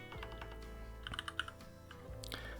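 Keystrokes on a computer keyboard while entering a firewall rule on a Linux server, a quick cluster of crisp clicks in the middle followed by a couple of heavier key presses, close and fairly quiet.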